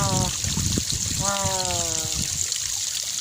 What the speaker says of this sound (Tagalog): yung pag-drain namin ng tubig dito sa nursery